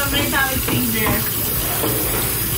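Hot water runs from a tap in a fast food restaurant kitchen, a steady splashing hiss throughout, with voices talking over it.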